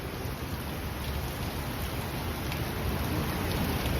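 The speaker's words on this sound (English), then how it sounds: "heavier rain." Heavy rain pours steadily during a thunderstorm in Midtown Manhattan, a dense, continuous hiss that swells slightly louder toward the end, with no voices.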